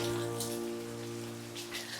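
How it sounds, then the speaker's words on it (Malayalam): Steady rain pattering on a surface, a continuous wash of drops with a low constant hum underneath. "മൊത്തത്തിൽ ഇന്ന് നല്ല മഴയാണ്"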